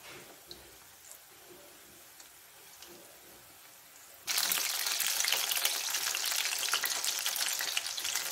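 Mini samosas deep frying in hot oil: quiet kitchen noise for the first few seconds, then a loud, dense, continuous bubbling sizzle bursts in and carries on close up to the end.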